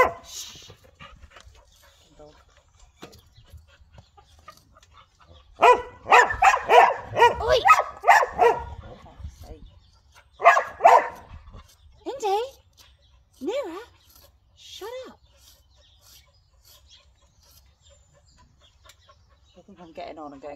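Several dogs bark in loud bursts near a horse being groomed in a yard, with a quiet lead-in and a person speaking between the barks.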